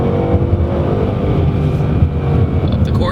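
A Ford Mustang GT, a 2015 model with an American V8 that revs past 7,000 RPM, roars loudly and steadily at high revs with a dense, buzzing engine note throughout.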